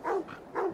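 A dog in Assassin's Creed Valhalla barks twice in quick succession, close and clear, with no other sound.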